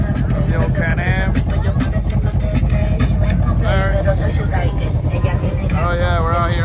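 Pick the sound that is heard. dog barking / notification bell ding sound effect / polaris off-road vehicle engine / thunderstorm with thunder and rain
polaris off-road vehicle engine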